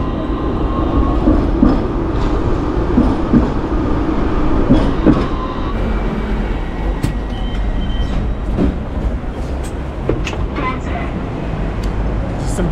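A Hong Kong Island tram rolls along with a steady low rumble and faint rail clatter, wheels occasionally squealing, with muffled voices in the background.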